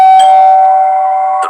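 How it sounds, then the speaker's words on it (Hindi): A loud, close doorbell rings once at night in a home, with a clear sustained chime that slowly fades. "तो डोरबेल बजी।"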